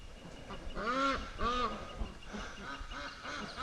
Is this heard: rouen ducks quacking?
yes